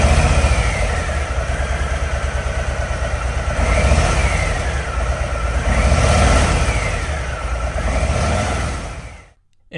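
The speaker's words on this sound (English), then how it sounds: "This is actually what it sounded like when it was stock." A stock-exhaust Harley-Davidson Low Rider ST motorcycle idles close by with a steady throb and a few gentle blips of throttle, then cuts out abruptly near the end.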